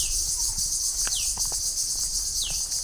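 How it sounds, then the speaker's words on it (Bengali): Crickets chirping at hot midday in rural Bangladesh, a steady high insect drone from all around and at a distance, with a few faint bird calls and sparse small taps underneath. "দূরে চারদিক থেকে ঝিঝি পোকার শব্দ শোনা যাচ্ছে"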